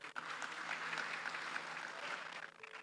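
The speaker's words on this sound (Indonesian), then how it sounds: "Kita boleh tepuk tangan buat kita semua." Steady audience applause fills a church session hall for close to three seconds, moderately loud and continuous, with no voices over it.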